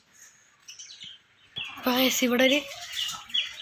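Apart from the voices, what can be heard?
birds chirping at a nursery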